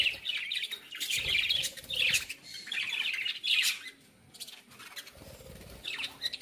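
Small colorful birds, white and yellow, chirp and squawk in bursts around a backyard birdhouse. The calls come close and lively with short pauses between, with no talking.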